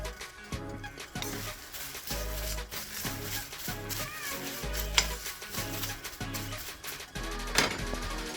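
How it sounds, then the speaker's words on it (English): Tea leaves dry-roasted in a hot wok while making oolong tea, with soft rustling and scraping as the leaves are stirred and tossed in repeated strokes, fairly quiet. "That's what I'm gonna do, is dry pan roast it. I've got a hot wok here."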